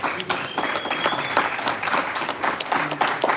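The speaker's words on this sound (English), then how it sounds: "let us please give a big round of applause to Ron Kamen, our moderator" A live audience at a Building and Realty Institute of the Hudson Valley event gives its moderator a round of applause: dense, steady clapping from many hands filling the room, fairly loud and continuous throughout.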